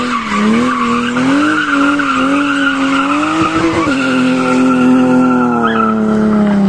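A loud, sustained tire squeal from a car drifting in real life, pitch wavering as the car slides, with engine noise underneath and no talking.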